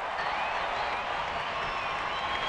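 A large baseball stadium crowd at a 2009 Cubs–Giants game in San Francisco roars and claps after a strikeout, a steady, dense wash of cheering and applause.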